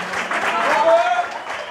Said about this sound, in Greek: Ένα θερμό χειροκρότημα από την Άφακτο, το Παναγιώτη Κοντράσο στο Κλαρίνο.